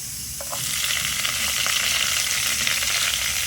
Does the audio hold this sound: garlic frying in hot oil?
yes